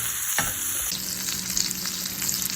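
Rack of lamb browns in a hot pan of butter and oil, giving a steady, close sizzle and crackle that carries on throughout with a few brief clicks of handling, and no voices.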